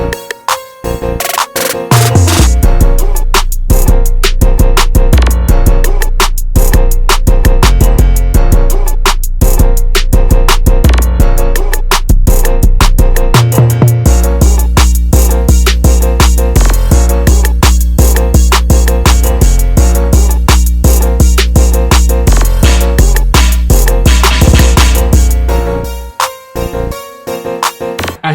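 Hip-hop beat plays back with a deep, booming 808 bass line thumping under drums and melodic layers, dense and loud throughout before ending abruptly.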